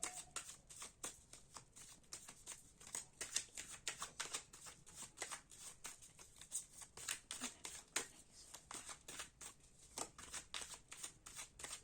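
Tarot cards shuffled by hand in a quiet room, a soft continuous run of riffling flicks and slaps in quick, uneven rhythm, close by and faint, with almost no speech.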